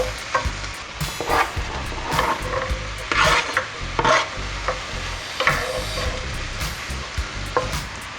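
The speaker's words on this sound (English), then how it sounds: "that's when you add your onions, and then you cook it gently for 4 minutes" Onions cook gently in rendered fat, giving a continuous close sizzle with repeated scraping stir strokes roughly every second, fairly loud and with no voices.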